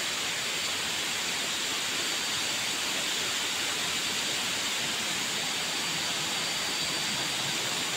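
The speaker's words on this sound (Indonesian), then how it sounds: "Ada suara-suara deburan airnya itu bikin tenang." The Curug Siklotok waterfall in Kaligesing, Purworejo, with water crashing in a dense, constant roar that holds steady and loud throughout, with no voices.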